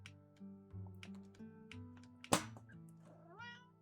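A house cat meows a few times near the microphone over a soft, steady musical backdrop, with a sharp knock partway through.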